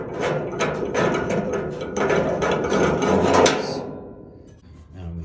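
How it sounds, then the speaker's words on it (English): Metallic clanks and scraping rattle close up as the gas pipe is worked loose from a Dearborn model B gas heater, a busy run of knocks and taps that thins out into a few faint clicks. "First, I'm gonna take off the gas pipe."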